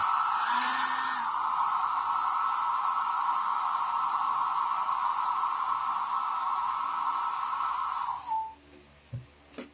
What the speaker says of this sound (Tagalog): Yan, tapos blower.